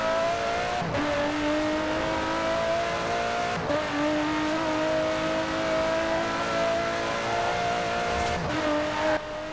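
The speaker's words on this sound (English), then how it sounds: "this car sounds insanely good. It really sounds like a race car." A police cruiser race car in Forza Horizon 4 holds a loud, sustained engine drone with a strong steady tone, broken by several brief shifts or rev changes, close and continuous with no talk.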